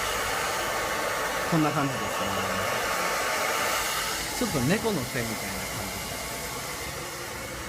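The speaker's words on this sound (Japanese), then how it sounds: "まずドライヤーを使っていくんですけども" A hair dryer blows in a loud, steady, close-up roar while bob-length hair is styled, and someone speaks over the constant airflow in two short stretches.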